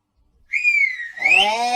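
A woman whistles a sustained tone that slides gently, then rises and bends into a second, louder whistled phrase, close and clear against silence.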